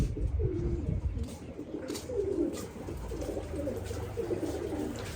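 Pigeons cooing in soft, repeated low warbling phrases, fairly close, over a murmuring background.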